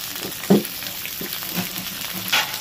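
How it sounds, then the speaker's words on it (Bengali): Chopped tomato frying in hot oil for a chicken curry, a steady close sizzle with a few sharper clinks and spatters from stirring. "এর সাথে দিয়ে দিচ্ছি টমেটো কুচি।"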